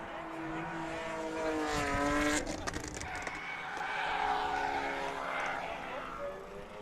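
A Ford Focus drift car runs on a race track at a winter drift event, its engine tone rising and falling, heard from a distance, with a sharp squeal partway through and voices talking over it.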